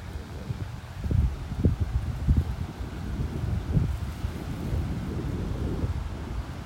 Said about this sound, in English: Really windy out here. Really breezy.